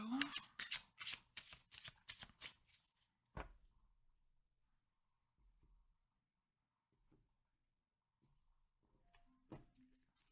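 A deck of playing cards is shuffled in a rapid run of riffles and bridges for about three seconds, close and crisp, followed by a few quiet taps and card handling sounds near the end.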